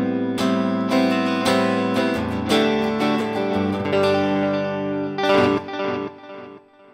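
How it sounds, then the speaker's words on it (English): Electric guitar played through a delay pedal placed after reverb in the Overloud THU amp and effects simulator, with chords and notes ringing into soft repeating echoes, loud and continuous, then trailing off near the end. "I might then want a delay. So again, all categories, delay. Delay pedal, after the reverb,"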